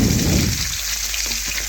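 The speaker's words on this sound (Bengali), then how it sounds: "এখন মাছগুলো এক এক করে আমি কড়ার মধ্যে দিয়ে দিচ্ছি।" Fish pieces dropped into hot oil in a wok, a burst of loud crackling sizzle that settles into a softer, steady frying hiss.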